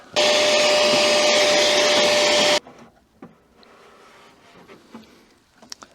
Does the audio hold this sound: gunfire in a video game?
no